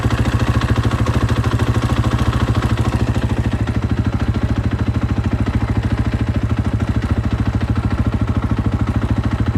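A KTM 500 motorcycle engine runs close by with a steady, throbbing single-cylinder thump as the clutch is slowly let out, holding an even, loud rhythm throughout.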